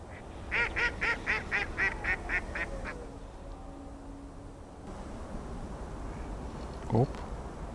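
Ducks quack in a rapid run of about eight calls early on near a fishing spot, followed by quieter ambient noise and a brief sharp sound near the end.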